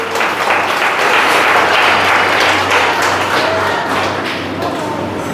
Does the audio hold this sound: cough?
no